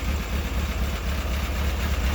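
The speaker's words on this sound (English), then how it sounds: "I'm gonna let the engine run for a bit" A 2003 Kawasaki 636 sport motorcycle's engine idles steadily close by, a continuous low rumble with a faint even pulse that stays constant throughout, no voices over it.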